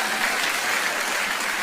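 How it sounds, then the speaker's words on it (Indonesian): A church congregation claps together during a sermon, giving broad, steady applause that holds evenly throughout without any voices. "Tepuk tangan buat Tuhan kita yang hebat."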